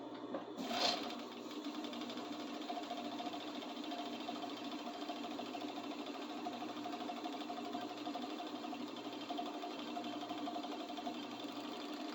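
A serger sewing machine hums steadily and continuously at low volume, with a brief louder clack near the start.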